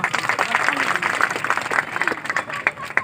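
Audience applause at a school stage event, dense clapping filling the space for a few seconds with a voice briefly speaking over it.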